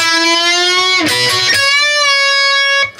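A distorted electric guitar note in a solo is bent up a half step and released, preceded by quick picked notes, then sustained with vibrato before stopping; loud, close and without speech.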